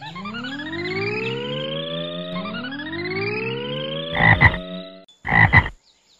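Cartoon frog croaking in a children's animated English story, a rising tonal croak repeated twice over music-like tones, then two loud short bursts near the end.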